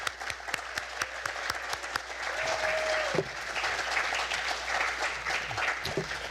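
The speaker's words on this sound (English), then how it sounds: "Let's give one more round of applause for all our seniors." Audience applause for graduating seniors at a school visual and performing arts signing day, a steady wash of clapping from a crowded room that holds for several seconds with a brief tonal whistle partway through.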